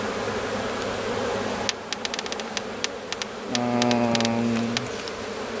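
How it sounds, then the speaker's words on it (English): Honey bees in the second box of a hive buzz in a steady, close drone during an early-March inspection, with scattered sharp clicks and a deeper tone swelling partway through. "I see bees down in the second box"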